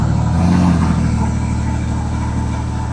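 Porsche 992 GTS with an aftermarket Soul Performance exhaust on a cold start, a loud, steady deep idle drone with a brief swell of revs near the start, close and continuous.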